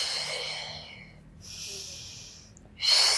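Slow, audible breaths during a Pilates foam roller workout: a long airy inhale, a pause, a softer exhale, then a sharper breath at the end, close and fairly quiet.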